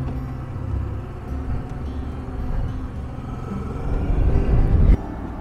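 A garbage truck drives along a street in Türkiye, its engine a low, steady rumble that swells louder as it nears and passes close by near the end.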